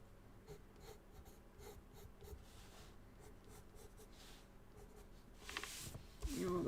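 Colored pencil stroking across paper while coloring in flower stems, a steady close scratchy rubbing that runs throughout and swells into louder handling noise near the end.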